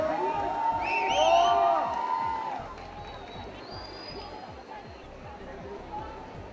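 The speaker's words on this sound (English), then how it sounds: "Can we have the token of applause?" Audience clapping and cheering at a promotional event for the 2013 film Jackpot, with rhythmic claps and whoops from a young crowd, loudest early and thinning later, while an amplified voice and a sustained tone ring over it.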